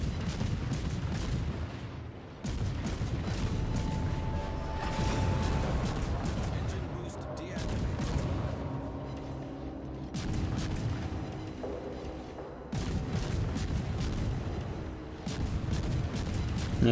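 Naval ship gunfire in the video game World of Warships booms repeatedly, heavy salvos and rumbling impacts recurring every few seconds at a moderate level, with someone talking over much of it.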